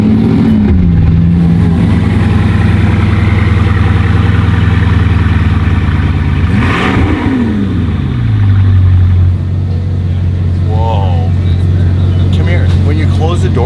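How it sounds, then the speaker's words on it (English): A Ferrari Formula 1 car engine idles with a deep, steady drone, briefly rising in pitch as the throttle is blipped before settling back down. "Listen to how the car sounds in here."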